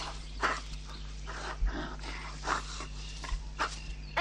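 A dog growls and snarls angrily in short repeated bursts, fairly close and clear over a steady background hum, from a French children's story on a vinyl record.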